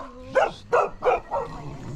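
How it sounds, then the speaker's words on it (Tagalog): Dogs barking on a mountain trail on Mt. Batulao in the Philippines: four loud, close barks in quick, uneven succession, with a softer yelp at the end and no talking. "Mga aso."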